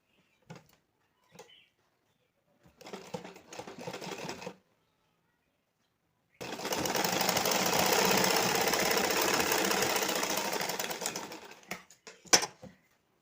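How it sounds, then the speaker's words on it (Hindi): A sewing machine runs basting stitches on a blouse, one steady sustained run of several seconds after a few short bursts, fairly close and alone with no talk. "उसके बाद अब कच्ची सिलाई लगा देंगे।"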